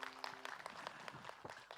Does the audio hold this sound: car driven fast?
no